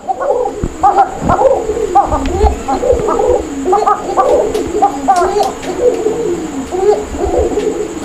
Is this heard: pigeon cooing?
yes